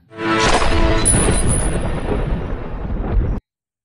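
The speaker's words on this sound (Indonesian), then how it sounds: "Tapi Dankor malah membunuh Bavani dengan senjatanya." Gunshot in an Indian film drama, a loud, booming, sustained blast that rolls on for over three seconds before cutting off abruptly.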